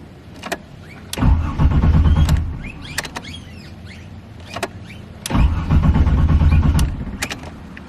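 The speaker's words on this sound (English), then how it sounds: "Engine is turning over, but for some reason it's not starting." An E46 BMW fitted with a turbocharged Buick 3800 V6 cranks without starting: two bursts of starter churning, each about a second long, separated by quiet clicks and small mechanical noises, close by.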